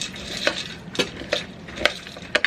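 Spoon stirring and mixing seasoned ingredients in a bowl, a series of five or six quiet, rhythmic clinking scrapes spaced about half a second apart, close by with no talking.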